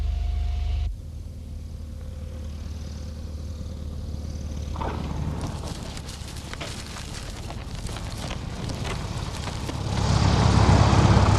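Propeller aircraft engine droning steadily on the ground during a covert unloading operation, a low continuous rumble that swells louder toward the end with broadband roar and wind noise.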